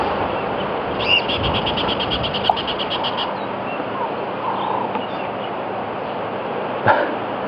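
A squirrel out on a safari drive gives a rapid, rattling alarm call, a steady string of short repeated chirps for about two seconds, heard at a distance over constant wind and vehicle rumble.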